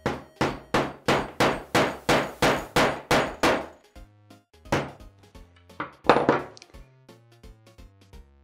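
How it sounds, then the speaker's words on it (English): Hammer tapping a metal jeans button onto its backer piece on a table, a close run of about ten sharp, evenly spaced strikes, then a pause and a few lighter, scattered taps. "you just want to tap it a few times with the hammer"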